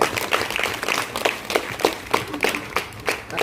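Schoolgirls at a girls' high school meditation event clap loudly together in a steady, rhythmic burst of sharp hand claps that fills the room.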